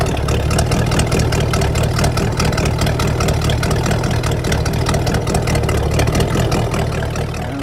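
Car engine idling with a lumpy, loping rhythm, steady pulsing throb held close and loud for several seconds with nothing else over it.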